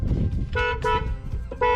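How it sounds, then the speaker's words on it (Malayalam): A Hyundai i20's horn sounds in three short, loud honks, each a bright, tonal blast separated by brief gaps, with low engine or road rumble underneath. "ഹോൺ ഇതാ"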